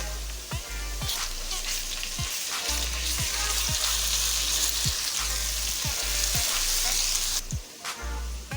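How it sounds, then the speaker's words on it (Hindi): Onions with garlic ginger paste frying in hot oil for achari beef gosht, a loud, dense sizzle with repeated spoon scrapes and knocks against the pan, heard close with no speech. "प्याज को गोल्डन होने तक हम इसे भूनते रहेंगे ऑयल में"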